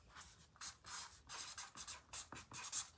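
A Sharpie marker writing on paper, a faint, close series of short squeaky strokes in quick irregular bursts, with no talk.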